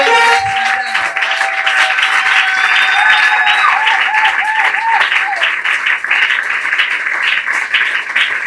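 A church congregation applauds and cheers loudly in acclaim of God during a worship service, a dense steady wall of clapping with faint voices and a tone or two rising from the crowd.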